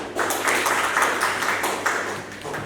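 Applause at a marriage registration ceremony: a small group clapping steadily for a couple of seconds, moderately loud and close, tapering off toward the end.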